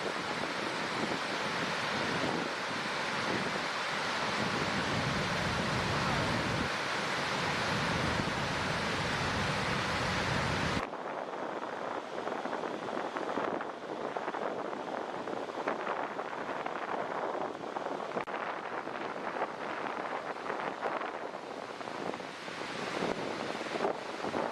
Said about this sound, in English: here it is at full tilt, a hole in a lake, swallowing tens of thousands of gallons a second